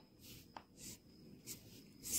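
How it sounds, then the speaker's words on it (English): Marker or pen drawing uneven curves on paper, a soft faint scratching in several short strokes with brief pauses between them, close by and quiet with no talk. "Here again I am going to draw uneven curves."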